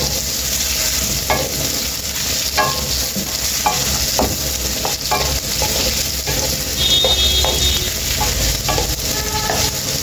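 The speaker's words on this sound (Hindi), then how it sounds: "ऐसे चम्मच हिलाते रहना। इसको थोड़ी देर फ्राई करना हमने, तकरीबन 3-4 मिनट के लिए।" Mixed vegetables for pickle sizzle steadily in hot oil while a spoon stirs and scrapes the pan in repeated strokes, close and fairly loud, with no voices.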